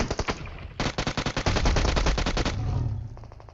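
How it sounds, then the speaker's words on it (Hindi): Rapid automatic gunfire from the mobile game PUBG Mobile rattles in loud, close bursts, a short string of shots, then a longer continuous volley that trails off into a rumbling echo. "और जैसे भाई इसने फायर किया तो भाई इसको निपटा दिया"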